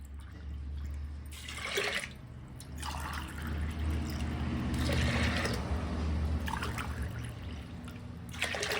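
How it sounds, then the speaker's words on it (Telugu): Glassfuls of water are poured onto washed chana dal, giving repeated splashing pours in three or four separate bursts, close and fairly quiet over a low background hum. "ఈ గ్లాస్ తోటి 3 గ్లాసుల నీళ్ళు పోస్తాం"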